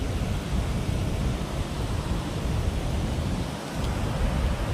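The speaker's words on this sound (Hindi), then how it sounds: "बहुत स्पीड रे पानी पड़े" Water from the opened outflow gates of Hadagarh Dam rushes fast in a steady, loud, broadband roar that holds with no breaks.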